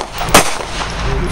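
A single sharp, loud pistol shot fired on a police training range rings out close by, with a brief bright crack and a short ringing decay and no other sound.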